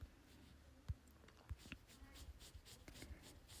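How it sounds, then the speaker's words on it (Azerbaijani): Handwriting with a pen or chalk on a board during a phonetics lesson: soft scratchy strokes with small taps, irregular and close, faint and alone with no talking. "Məsələn, yazıram mən bura"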